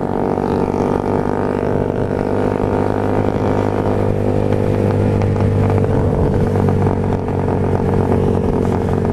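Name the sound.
Suzuki Raider R150 motorcycle accelerating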